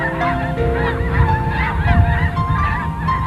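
Wild geese honk loudly and repeatedly as a flock during a Christmas bird count outdoors in the Kansas City area, overlapping calls filling the air with no voices heard.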